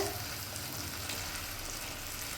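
Steady oil sizzling in a pan with soft stirring of fish, a continuous frying hiss with no speech.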